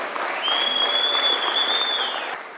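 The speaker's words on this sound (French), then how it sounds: "Je vous demande d'applaudir très fort." A large audience applauds loudly and steadily at a New Caledonia referendum campaign gathering, a dense wash of clapping that holds for a couple of seconds before easing slightly at the end.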